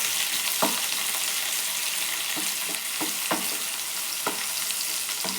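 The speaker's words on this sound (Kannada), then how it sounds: "ಈರುಳ್ಳಿ ಸ್ವಲ್ಪ ಗೋಲ್ಡನ್ ಕಲರ್ ಬರೋವರೆಗೂ ಚೆನ್ನಾಗಿ ಫ್ರೈ ಮಾಡ್ಕೊಳ್ಳೋಣ." Finely chopped onions sizzle steadily in hot oil with cinnamon sticks and cardamom pods, a dense continuous frying hiss broken by a few soft stirring knocks, close and alone without talk.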